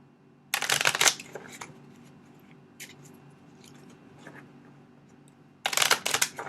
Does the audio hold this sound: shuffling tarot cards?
yes